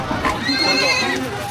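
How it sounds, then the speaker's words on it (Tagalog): Horses whinny at an illegal horse fight, a short high neigh rising over loud crowd noise and shouting, close and busy throughout. "maririnig na ang halinghing ng mga kabayo at malalakas na hiyawan ng mga parokyanong nanonood"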